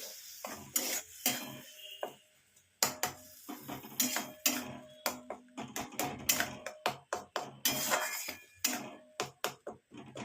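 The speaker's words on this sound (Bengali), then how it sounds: "একটু কষিয়ে নেবো।" Fish curry masala with a little sugar being sautéed in a pan, sharp clinks and scrapes of a metal spatula in irregular bursts over a faint sizzle, close by with short quiet gaps and no speech.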